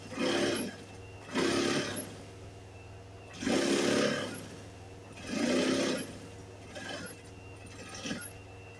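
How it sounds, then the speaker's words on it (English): A sewing machine stitching the back yoke of a shirt runs in four or five steady whirring bursts of a second or so each, separated by short pauses, close and moderately loud. "So the first thing I do is to hold the yoke, the back yoke, by sewing the teeth."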